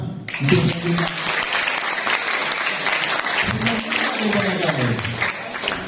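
Students clap together in a school hall during a police outreach session, a steady wash of applause lasting throughout, with a voice talking briefly over it at the start and again later.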